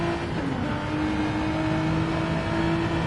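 A race car engine in Gran Turismo 7 driven at Spa, running continuously near and loud with a steady, slightly wavering pitch, downshifting briefly before holding on through the downhill run.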